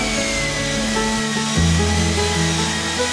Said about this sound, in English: And now I can start sanding the crossbeam.